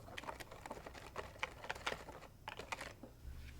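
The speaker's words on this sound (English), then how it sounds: "take your whisk and mix everything together" Rapid, light clicking and tapping strokes, a quiet rhythmic patter of a whisk mixing milk and jello in a bowl, with a brief pause near the end.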